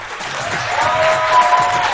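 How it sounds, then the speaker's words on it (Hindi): Studio audience applauding on a Pakistani morning show, a dense, steady burst of many hands clapping that swells slightly toward the end. "बहुत सारी तालियां होनी चाहिए"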